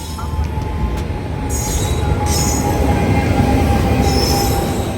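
A train from Punjab to Hazur Sahib, Nanded, rumbles along the rails, loud and close, with a steady roar, a thin squeal of wheels and bursts of high metallic screeching.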